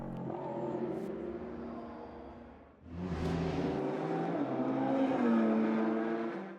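LMP2 prototype race cars in a 2017 FIA World Endurance Championship race, one chasing another for second place: a loud, continuous engine roar rising and falling in pitch, briefly dipping before surging back as cars pass close by.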